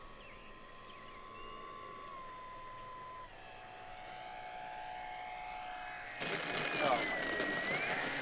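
E-flite Night Timber X, a 1.2 m STOL 3D RC airplane, flying with half flaps, its steady electric motor whine shifting pitch and then swelling louder as it nears, with a person's brief exclamation over it.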